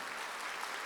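Congregation applause in a Korean church service, a brief, steady wash of clapping hands from a crowd, even in level throughout.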